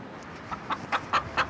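Chicken clucking in a short series of about five evenly spaced clucks, moderately loud and close, with no talking.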